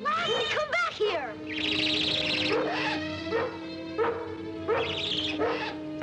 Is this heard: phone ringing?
no